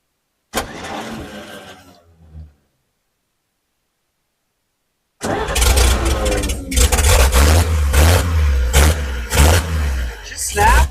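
An old truck nicknamed Stinkbug, rough and somewhat sketchy, roars to life after a short silence, then runs loud and close with uneven bursts of revving over the idle while a voice talks over it.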